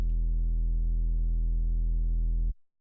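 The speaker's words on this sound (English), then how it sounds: "which is just massive sine wave, a little bit of distortion." Sub bass synth patch: a massive sine wave with slight distortion, holding one loud, steady low tone with a few added overtones for about two and a half seconds, then cutting off sharply.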